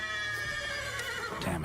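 A horse in The Witcher 3 lets out a single loud whinny lasting under two seconds, clear and close with no voices.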